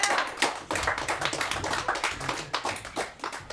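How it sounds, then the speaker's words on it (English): An audience at an improv comedy show claps for the players after a scene, a brief close burst of hand claps with an uneven, tapping rhythm. "let's give another round of applause for our players"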